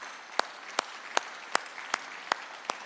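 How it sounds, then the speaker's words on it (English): An audience at Jamaica's National AI Lab signing ceremony claps in a steady rhythm. Sharp, evenly spaced claps land about every 0.4 seconds over a low room murmur. "Give it a big round of applause."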